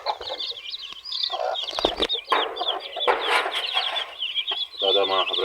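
Hens cluck and chatter close by, a busy run of short repeated clucks with squawky bursts, set among backyard chickens with someone talking now and then over the birds.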